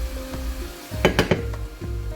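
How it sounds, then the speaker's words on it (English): Vegetables with cabbage sauté in a pan, a steady close sizzle broken by a few sharp clinks and scrapes of a utensil stirring against the pan. "I will saute the vegetable for 5 minutes"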